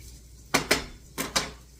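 Four sharp metallic scrapes of a utensil against a pan, in two close pairs, while onions and garlic are stirred; no voices, quiet in between.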